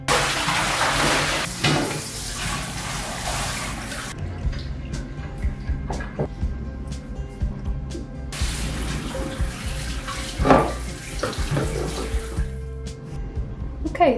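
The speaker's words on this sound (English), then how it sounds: "rinse the skins, and then put them back together." Running tap water rinses avocado skins in a sink for natural wool dyeing, a strong gush that cuts off, then quieter dripping and handling of the skins before the tap runs again and stops.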